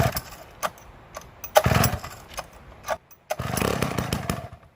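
An old chainsaw left unstarted for over a year, run on ethanol-free fuel, sputters through several short pull attempts, then catches and runs unevenly, loud and close.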